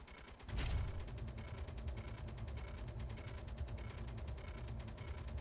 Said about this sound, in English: We can hear the turret firing.